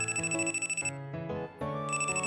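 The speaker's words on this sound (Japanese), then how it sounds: "マネージャーさんから電話だよ" A phone rings in the video game Kandagawa Jet Girls, a bright electronic ringtone melody of repeating chimed notes with a short dip midway, loud and clear with no speech over it.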